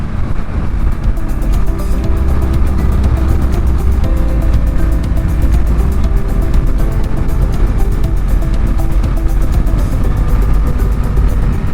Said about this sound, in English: Feel that wind blowing.